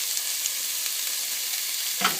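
Dominican-style meatballs fry in a pot with a steady, soft sizzle and crackle, and a brief clatter of stirring comes near the end.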